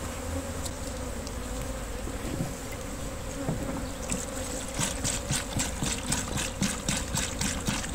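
Honeybees buzz thickly and continuously at close range while a hive is split into nucleus colonies, with a dense insect drone and faint handling noises, and no talking.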